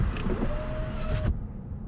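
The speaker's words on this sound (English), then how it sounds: "this is windows down. A lot of extra noise comes in." Wind and road noise rush into a Volvo S90 T8 Inscription Plus sedan driving with its windows down, a steady broadband roar with a faint whine, cutting off abruptly near the end.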